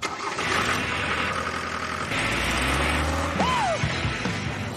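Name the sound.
car engine starting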